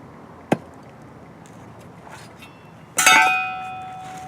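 An adobe mud block snapped in two by hand: a sharp crack early on, then a louder crunching break with a brief ringing, scraping tail, heard close and alone with no talk.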